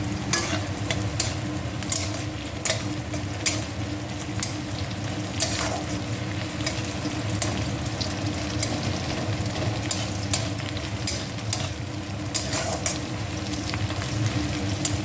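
Food fries in a pan with a steady sizzle, while a spatula scrapes and stirs it in repeated irregular strokes across fifteen seconds, close and fairly loud with no talking.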